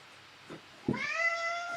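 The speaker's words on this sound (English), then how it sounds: "hold on, my cat" A house cat gives a single clear, rising-then-falling meow close by, preceded by a couple of soft thumps in an otherwise quiet room.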